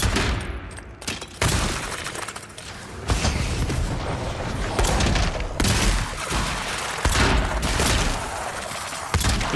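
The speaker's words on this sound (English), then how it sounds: "Two guns, just keep firing." Sustained gunfire from two guns in the fantasy video game Avowed, a dense, loud barrage of rapid shots and booming blasts that runs almost without pause, with no talk over it.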